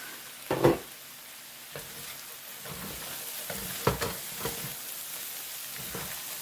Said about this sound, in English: Give it a nice little stir.